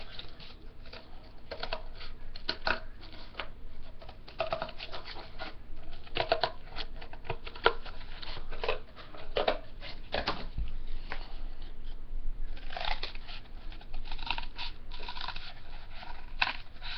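Craft material being cut for a miniature toy couch, heard as steady scraping and snipping textures that run close and continuous with no voices.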